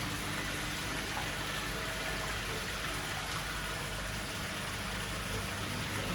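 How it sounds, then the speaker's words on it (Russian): A waterfall pours into a koi carp pond inside a large Kölle Zoo aquarium shop in Austria, a loud, constant wash of splashing water filling the space with no voices. "Водопад такой тут прямо."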